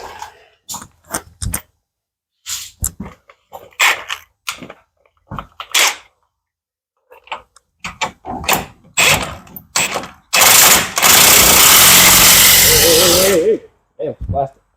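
An impact wrench tightens the CV axle bolts on a 2005 Chevrolet Silverado. A single loud, close burst of about three seconds follows short stretches of intermittent talking, and a brief comment comes after it.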